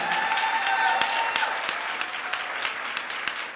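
Warm applause for a graduate at a 2016 graduation ceremony, a steady patter of many clapping hands that holds evenly and begins to thin toward the end.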